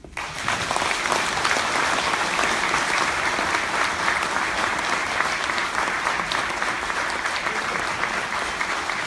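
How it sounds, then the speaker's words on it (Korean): An audience at a policy forum breaks into loud, sustained applause after a keynote speech, many hands clapping evenly and densely from start to finish, close and full with no voices on top. "문재인 전 대표님께 큰 박수 부탁드립니다."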